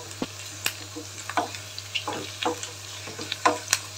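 A pot of dal cooking for khichdi bubbles on the stove with irregular soft pops and sputters. The sounds are close and fairly quiet, spaced unevenly, with no talking.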